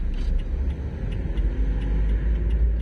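A car on the road during a driving-school practice session for a licensing exam, its engine rumbling low and steady while gaining speed, continuous and close throughout with no talk.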